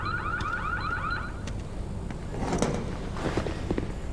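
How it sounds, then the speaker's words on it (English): A shop alarm system in the Need for Speed Unbound racing game goes off with a rapid repeating electronic warble, followed by clattering knocks and bumps, no speech. "you triggered the alarm system"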